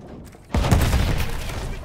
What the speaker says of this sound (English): Oh, there's a field gun.